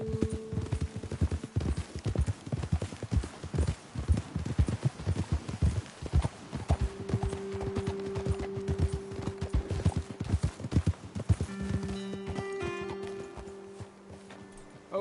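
Horses gallop in the Red Dead Redemption 2 video game, their hooves drumming in a steady, fast clip-clop that carries through the whole stretch. Sustained tones and game music rise underneath toward the end.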